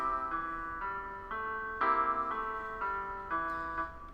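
MuseScore playback of a C blues composition plays a steady line of synthesized notes in a plain repeating rhythm, fairly quiet and without any voice.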